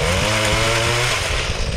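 A pole saw, an extension chainsaw, cuts a tree branch in a field with a loud, close, continuous engine whine and chain rasp, steady throughout with no voices.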